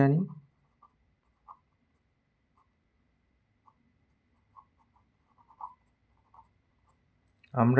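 Pen or chalk scratches out a simple-interest maths problem in short, faint, scattered strokes and taps across a quiet stretch, with a voice speaking briefly at the start and end.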